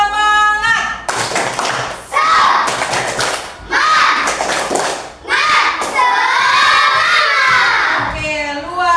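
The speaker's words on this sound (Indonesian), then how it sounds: "Tepuk semangat." A class of children does tepuk semangat, a rhythmic spirit clapping routine, with crisp patterned bursts of claps and thumps alternating with loud group shouting and chanting in a classroom, near and energetic.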